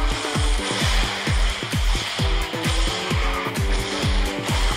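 Racing car in the QQ Speed Mobile game skidding through a drift, with a loud, repeating engine rev pattern pulsing steadily under a constant bright hiss of tire noise, close and continuous with no talk.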